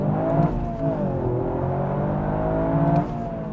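A 2021 Toyota GR Yaris hot hatch accelerates hard from inside the cabin, its engine revving loudly in a rising, continuous pull with a brief shift dip, no voices over it.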